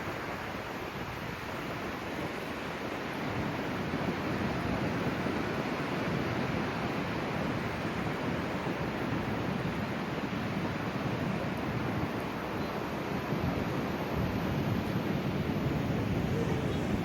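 Rough sea surf at Piha beach, New Zealand, roars as a steady, dense wash of breaking waves with wind buffeting the microphone, loud and unbroken throughout.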